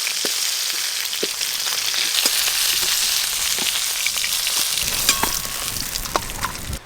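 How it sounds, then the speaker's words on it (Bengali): Hilsa fish heads fry in hot oil, a dense and steady crackling sizzle with scattered pops and spatters, close and loud throughout. "এবার আমি ইলিশ মাছের মাথাগুলোও ভালো করে ভেজে নেব"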